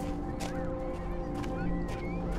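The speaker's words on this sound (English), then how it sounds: "Those seagulls are not a welcome sound." Seagulls cry out in the video game Husk over a bleak outdoor coastal setting near a lighthouse, a few sharp, wavering calls rising above a low droning ambient bed.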